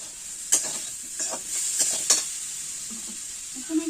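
Potatoes fry in a pan as mushrooms are added. A steady high sizzle runs throughout, broken by several sharp scraping stirs and clinks from the utensil.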